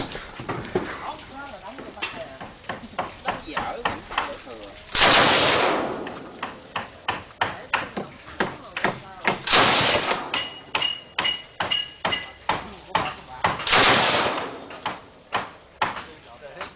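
A large rifle fires three loud, broadband blasts at a shooting range at the Cu Chi tunnels in Vietnam, spaced several seconds apart, with a steady run of sharp clicks and handling noises between them while people talk.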